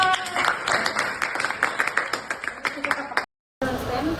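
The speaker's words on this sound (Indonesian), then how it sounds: "tepuk tangan untuk Nita" Classroom applause for a student named Nita, a few seconds of dense clapping from a group, with a brief gap of silence before the clapping resumes.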